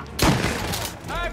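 Gunfire in a bank heist shootout in Mafia Definitive Edition: a loud burst of shots near the start, then sustained clatter and echo under a voice.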